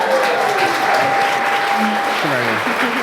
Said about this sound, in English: Give these two another giant round of applause, if you would.